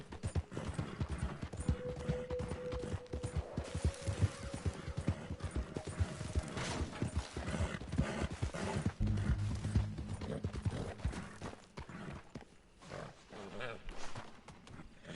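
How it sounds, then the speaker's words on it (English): A horse's hooves clip-clop steadily in the video game Red Dead Redemption 2, a continuous, moderately close rhythm of hoofbeats with occasional snorting, while voices talk over the top. "Get that horse hidden away, Clive, and ready to move out as soon as we can."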